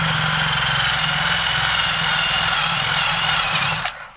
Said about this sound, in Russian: Здесь мы насквозь сверлим, здесь мы тоже сверлим насквозь.